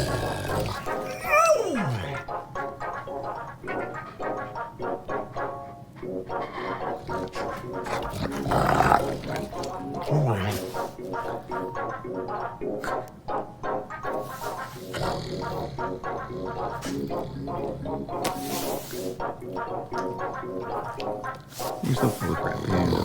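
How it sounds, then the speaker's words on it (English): Low, rumbling growls from a Borzoi dog rise and fall over a steady background, with a louder snarl near the middle; a voice murmurs faintly at times. "Every time the owner attempts to pet the wolf calmly growls and nudges his hand away"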